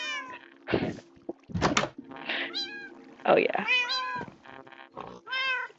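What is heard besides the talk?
cats meowing in the video game Minecraft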